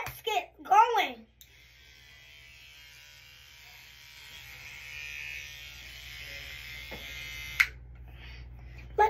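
A Super Mario electric toothbrush buzzing in a steady, fairly loud drone for several seconds after someone speaks briefly at the start, ending in a sharp click.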